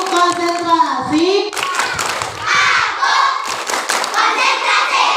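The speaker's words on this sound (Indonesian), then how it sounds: "tepuk tangan semuanya" Classroom hand clapping in a rhythmic pattern led by a teacher with children, mixed with children's voices and talk throughout.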